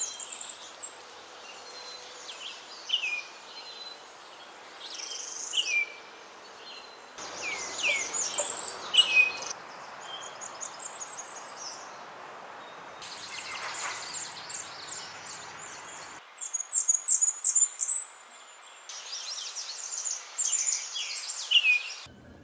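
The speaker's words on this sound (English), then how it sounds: "The Blackburnian warbler has a shrill quality like the redstart" A Blackburnian warbler repeats shrill, very high-pitched songs in several separate bursts against a quiet background, with faint calls from other birds between phrases.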